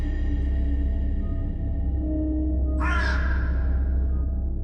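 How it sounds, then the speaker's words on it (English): A raven gives a single loud, harsh caw that stands out clearly against a steady rumbling background. "She followed the raven's cry through the trees, never once straying."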